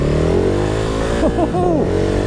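A Ducati Hypermotard 950 SP V-twin motorcycle engine runs steadily up close, a loud, continuous throbbing drone with some pitch swoops toward the end, as on a road ride.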